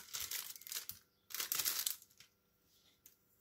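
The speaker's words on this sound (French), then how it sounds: "On va mettre du scotch derrière." Short bursts of crinkling, ripping noise come in two main pulls with a few smaller ticks between, like tape being torn from a roll close up.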